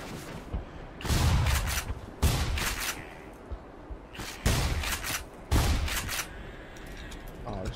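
Bursts of gunfire from a weapon in the video game Black Mesa, four or five loud volleys of rapid shots separated by short quiet gaps, with faint background game sounds between them.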